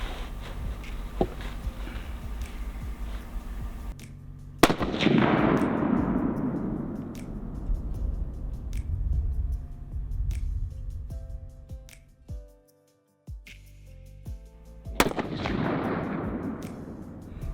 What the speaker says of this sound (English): making sure my rifle's on. So we're going to take a couple shots